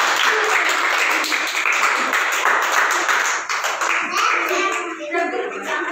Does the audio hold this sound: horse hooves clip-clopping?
no